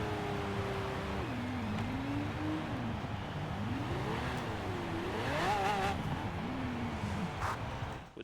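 A Lamborghini Aventador with a drag tune launching on a rain-soaked track in Forza Horizon 4, engine holding steady revs then climbing through rising, shifting tones, continuous and fairly faint with no voice over it.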